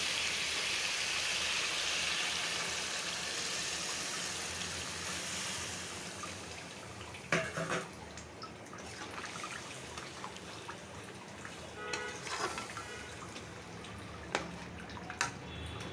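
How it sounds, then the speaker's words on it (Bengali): Water poured into a chicken korma cooked with sour yogurt, a broad rushing pour at first that eases into trickling and bubbling, with a few clinks of the pot and no speech. "এখন ঝোলের পানিটা দিয়ে দিব"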